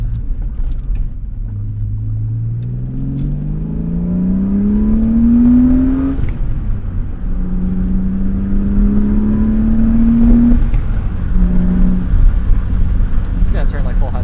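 A BMW M3 E36 with a Z3 steering rack drives from inside the cabin, its engine droning and rising in pitch through two gears with a shift between, over a steady road rumble as someone talks.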